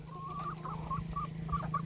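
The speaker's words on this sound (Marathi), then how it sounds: "हे कोंबड्या" Domestic hens cluck in a series of short, repeated calls, fairly close and moderately loud, over a steady low background hum.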